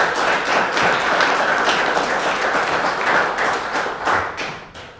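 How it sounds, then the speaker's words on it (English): Audience applause after a technical presentation on Bitcoin payment software, a dense, continuous wash of many hands clapping at close range that tapers slightly at the end. "A round of applause for you."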